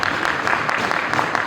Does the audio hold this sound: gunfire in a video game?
no